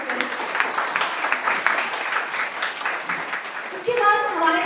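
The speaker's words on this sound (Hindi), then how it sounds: "आप सभी से भी आग्रह करती हूँ कि जोरदार तालियां" An audience claps to welcome the chief guest at a school parents' day and parent-teacher meeting with a lamp-lighting ceremony: a dense, steady patter of many hands, with a voice and a swell of clapping near the end.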